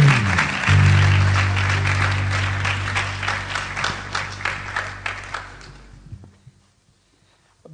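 An audience at a live Christian gathering bursts into loud, sustained applause over a held musical chord, the clapping slowly thinning out and fading to near silence toward the end.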